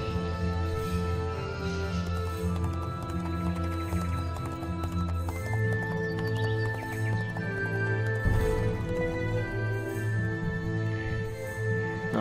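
Horses in Heroes of Might and Magic V, steady clip-clopping and neighing under sustained game music, with one louder thud-like burst near the end.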